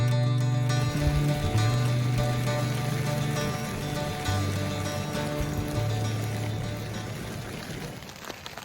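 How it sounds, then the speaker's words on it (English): Steady rain patters on a tent pitched in the North Yorkshire Dales, a continuous dense wash close by, with a low droning hum running underneath throughout. "It's actually quite relaxing lying here, listening to the rain"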